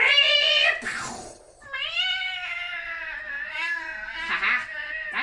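A cat meows up close in long, drawn-out wailing cries, with one loud meow, a short pause, then a sustained plaintive yowl.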